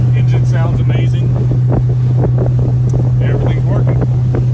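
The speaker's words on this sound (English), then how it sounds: "Engine sounds amazing." A Malibu motorboat's engine, about 20 years old, drones loudly and steadily with a constant low hum on the water, wind buffeting the microphone and a voice talking over it.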